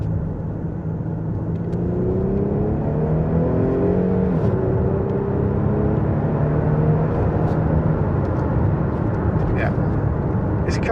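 A 2011 Infiniti M35h hybrid saloon accelerating in second gear, its engine note rising steadily with a smooth climbing drone inside the cabin while a driver talks over it.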